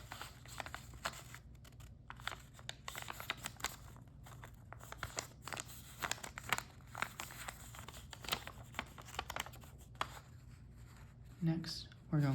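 Origami paper is folded and creased by hand, with soft rustles, crisp scrapes and small crinkles repeating at close range under an ongoing instructional voice.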